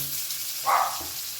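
Chopped potatoes tipped into a little hot oil in a pan for a light vegetarian curry, giving a short, sudden burst of sizzling that swells briefly and then settles back to a soft background crackle.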